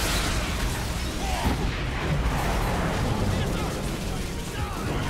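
Continuous weapon fire in Earth Defense Force 5 on PC, a dense, steady barrage of loud booming shots with no break across the whole stretch, mixed with other game noise and speech.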